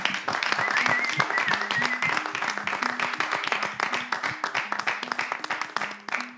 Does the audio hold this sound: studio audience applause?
yes